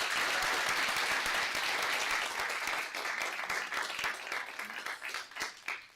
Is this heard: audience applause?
yes